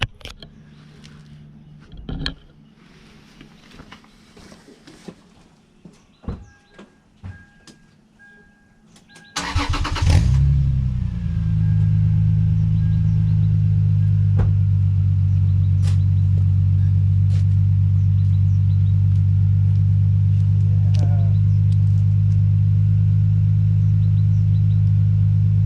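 A Lexus IS300 engine cranks and catches after some quiet shuffling, then settles into a steady, loud, deep exhaust idle that continues to the end.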